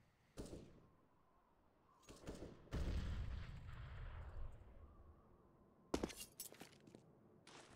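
Scattered gunshots in a shooter video game, a few sharp cracks spaced out over a quiet background with one longer rumbling burst in the middle, fairly faint.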